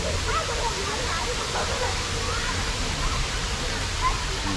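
Rushing water at a natural waterfall, Sai Yok Noi, a dense steady roar close by, with a person talking over it.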